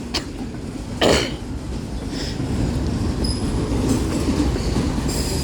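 CSX 7014, a long eastbound freight train hauling auto racks, rumbles past nearby with loud continuous wheel noise, clanks and a brief squeal, steady from start to finish.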